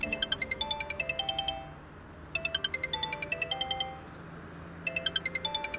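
A mobile phone rings with a repeating electronic melody of bright chiming notes, heard in three bursts separated by short pauses over a low background hum, with no one speaking.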